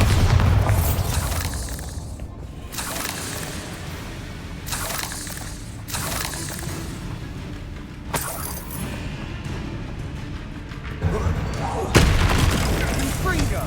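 Spell explosions from the Bombarda and Confringo spells in Hogwarts Legacy, several booming blasts with crackling bursts over a busy game soundscape, loud and repeated at intervals, with a voice speaking between them.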